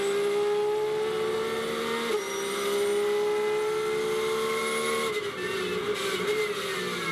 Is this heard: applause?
no